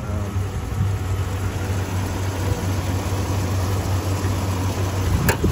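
A 2004 Jeep Grand Cherokee's 4.7-liter PowerTech V8 idles steadily under the open hood, a close, even low rumble with a constant drone and a brief click near the end, no voices.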